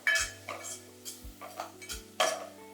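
Rasam powder being sautéed in a pan for tomato rasam, heard as about five distinct metal spoon scrapes and clinks against the pan, close and clear between quiet gaps.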